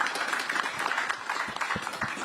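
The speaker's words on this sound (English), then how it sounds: "So just a round of applause for the gentlemen here." Audience applause for a panel of gentlemen at a policy and reforms conference, a steady, moderately loud wash of many hands clapping throughout.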